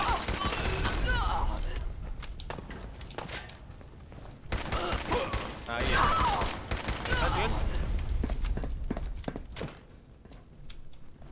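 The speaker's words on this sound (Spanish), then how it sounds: "¿Quién nos está disparando todo eso?" Bursts of gunfire ring out in the video game Fallout 4, with rapid machine-gun-like volleys and thuds coming in waves that ease off toward the end, while a voice speaks over the action.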